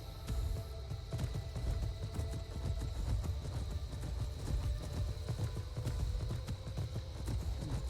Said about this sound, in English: Here, this is my new horse